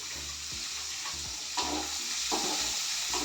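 Onions, green chillies and vegetables frying in a pan for soya chunks fried rice, with a continuous sizzle and repeated scraping stirs at an uneven rhythm, and no voices.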